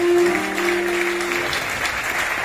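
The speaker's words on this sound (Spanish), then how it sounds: "Fuerte aplauso para nuestro amigo, fotógrafo y compañero Alex Rodríguez Cruz." A crowd at a live band show claps for a band member's birthday, steady applause with a held tone fading beneath it.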